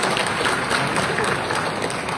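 Audience applause at an official program launch ceremony in Melaka, a steady dense clapping wash throughout at moderate level.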